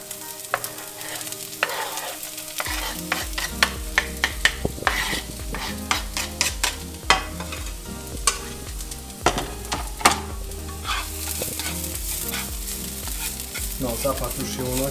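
Hot olive oil sizzling in a frying pan, a loud steady crackle broken by frequent sharp spatters and utensil taps, close up and continuous.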